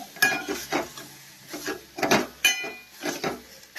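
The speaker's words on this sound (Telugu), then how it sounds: "నీళ్ళన్నీ ఇంకిపోయే వరకు కలుపుకోవాలి" A utensil scrapes and knocks against a pan as tomato chutney is stirred and cooked down, in slow repeated strokes with occasional metallic clicks, close and moderately loud, with no talking.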